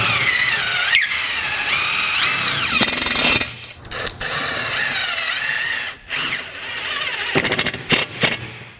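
A power tool drives 5/16 stainless steel lags into a wall for mounting an air dryer, with loud bursts of whirring and rattling impact, brief pauses between runs, and no talk.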